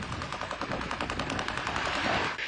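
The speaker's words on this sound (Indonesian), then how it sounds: "Mereka menembak." Air defense gunfire during a drone attack on Moscow, heard as a long, dense rattle of rapid automatic bursts, loud and continuous with no pauses, and no talking.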